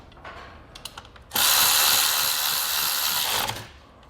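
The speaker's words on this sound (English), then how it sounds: "Set that on and thread in 2 more of those flat Allen head bolts." Power tool driving flat Allen head bolts while installing Air Lift LoadLifter 5000 air helper springs on a 2019 Chevrolet, a loud close whir of about two seconds after a few light clicks and handling taps.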